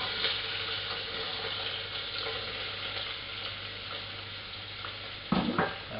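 Potatoes and curry leaves being stirred into hot oil in a pan for kichdi, a steady close sizzle of frying with soft scraping of the spoon and a few clinks near the end.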